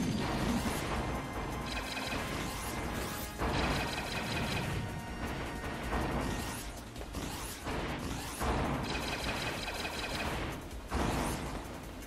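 An explosive barrel blows up in the video game Mighty Number 9, giving loud, dense blasts and crashing bursts that repeat in waves over constant game noise.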